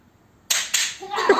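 A toy Nerf gun fires indoors during a home foam-dart battle, making two quick sharp pops in close succession followed by a softer clattering hit.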